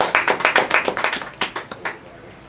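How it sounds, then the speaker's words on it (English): A church congregation claps for Jesus in a burst of rhythmic, fairly close hand claps that start brisk and evenly spaced, then thin out and fade over a couple of seconds. "Come on, let's clap for Jesus"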